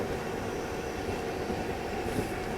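A train rumbles past close by, a low continuous rolling roar of wheels on track with no voices.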